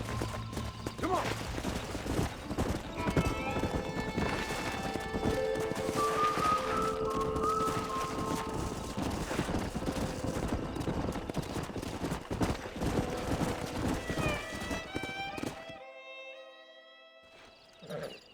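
Horses in the video game Red Dead Redemption make a steady clatter of clip-clopping hooves with occasional neighs, set against game music that fades out near the end.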